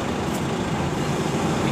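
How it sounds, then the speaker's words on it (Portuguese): A truck's wheels spin and slip on a road curve, giving a steady, loud rumble of engine and road noise with no breaks. "Ali a curva da onça, ali o caminhão patinando."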